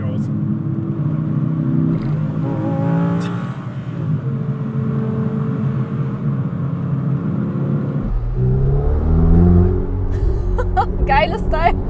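A Ferrari 488 Spider with about 540 hp roars steadily as it accelerates, a loud continuous engine drone that grows harsher and deeper midway, with voices talking over it.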